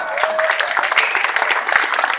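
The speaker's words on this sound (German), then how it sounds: "Ein riesiger Applaus" Street festival audience applauding in the old town square during a street performer's show, a dense, continuous wash of many hands at mid distance, with a voice faintly mixed in.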